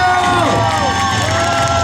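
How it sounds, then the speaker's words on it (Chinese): Concert crowd at an outdoor evening music show on a bridge in Xiluo, cheering and screaming loudly and continuously while sustained music tones play underneath. "来，掌声加尖叫，欢迎"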